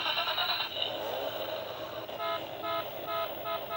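A toy remote control car's horn honking, a few short repeated electronic toots in the latter half, faint and close after a brief burst of electronic music.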